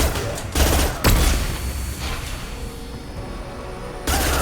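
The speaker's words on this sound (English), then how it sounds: "That's just a flashbang, it's fine." Flashbang grenade detonating amid gunfire in the video game Mass Effect 2, with loud sharp blasts near the start and end over a dense wash of battle noise.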